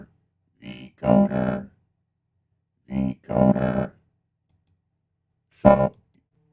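A voice passes through a vocoder effect in three short robotic bursts, harmonically buzzy and synthetic, with silence between them.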